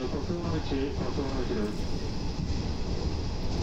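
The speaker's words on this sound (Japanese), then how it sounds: "列車は地下の中を走りまして、次は春日の道駅へと止まります。" A Hanshin Jet Car local train runs into an underground section, giving a steady, loud rumble of wheels and motors inside the tunnel, with someone talking over it for most of the stretch.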